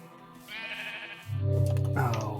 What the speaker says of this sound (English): And some sheep. Hi, sheep.